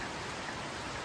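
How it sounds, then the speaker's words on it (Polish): Heavy rain pours down during the rainy season in Bohol, Philippines, a steady, dense, unbroken hiss with no voices over it. "Siedzę i czekam, aż przejdzie deszcz,"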